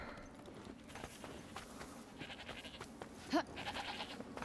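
In the video game Forspoken a hungry sheep gives a single short bleat near the end, heard over soft ambient game sounds and faint footsteps.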